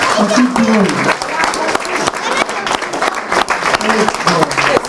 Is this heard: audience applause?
yes